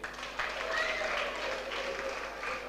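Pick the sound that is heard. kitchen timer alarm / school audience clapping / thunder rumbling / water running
school audience clapping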